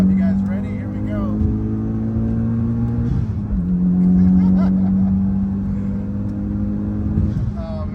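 A 2013 Mitsubishi Lancer Evolution X engine revs hard up and down in repeated bursts, loud and close, with exhaust pops between revs.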